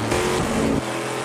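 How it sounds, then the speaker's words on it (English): A race car's aluminum-block, titanium-valve V8 engine revs hard at a Baltimore endurance race, a loud, steady roar that shifts pitch midway and then settles to a lower drone. "That's the sound of an aluminum block titanium valve V8 pushed to the limit,"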